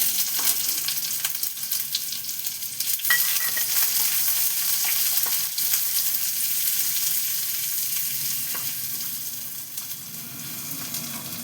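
Chopped onion sizzles and fries in a pan with garlic cloves, a steady close crackle that runs throughout with occasional stirring clinks and scrapes.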